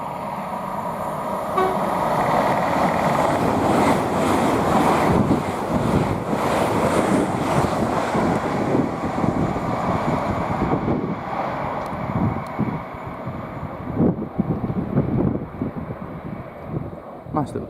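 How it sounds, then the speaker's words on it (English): Class 800 train 800-105 passes on the East Coast Main Line at Potters Bar, a loud, sustained rushing roar with heavy wind buffeting, a brief horn toot, and a fading tail. "the next train to pass by, we've got 800-105 heading to Aberdeen"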